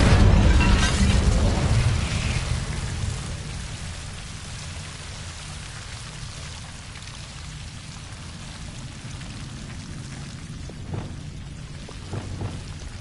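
An Incendio fire spell cast in a Hogwarts game bursts out as a loud, close whoosh at the start, then settles into a continuous crackling hiss, with a few faint sharp pops near the end.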